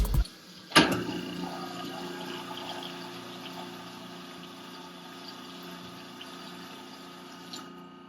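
An Evolution Space Saver garbage disposal starts with a sharp thump and then runs with water flowing through it, a steady, fairly quiet whirring wash that continues without talk.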